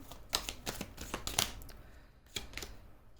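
Tarot cards being shuffled by hand, a quick run of soft papery riffles and taps up close, then a pause and one more brief flick, with no talking.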